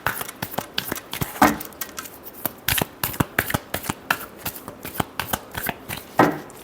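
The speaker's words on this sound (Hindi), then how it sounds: "Last shuffle." A deck of tarot cards being shuffled in a run of quick, crisp riffling and snapping bursts, loud and close with no talking.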